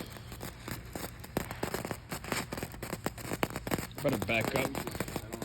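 Small fireworks and smoke bombs crackle and pop in quick irregular bursts at moderate distance, with people talking over them and a brief whistling tone near the end.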